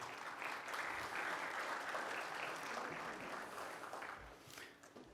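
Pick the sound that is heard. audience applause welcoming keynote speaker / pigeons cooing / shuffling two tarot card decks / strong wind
audience applause welcoming keynote speaker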